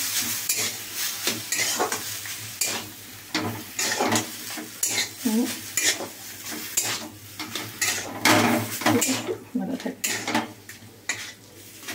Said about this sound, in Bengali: মোচা কেটে সেদ্ধ করে আর আলু সেদ্ধ করে এটা মাখাই ছিল, শুধু একটু নেড়ে নিলাম